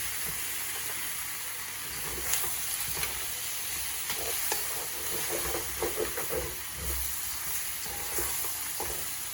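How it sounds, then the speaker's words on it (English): Paella ingredients with tomato frito sizzle and fry in a pan, a steady hiss broken by scattered clicks and scrapes from stirring, heard up close with no talking. "We'll stir all these ingredients together now."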